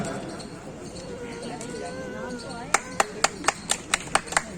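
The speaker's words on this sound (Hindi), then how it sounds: "तालियों से खुश हो रहे हैं सब लोग।" A voice speaks over a faint background hum at an Independence Day event in the Bareilly Collectorate, then a few people begin clapping in crisp, spaced handclaps that continue to the end.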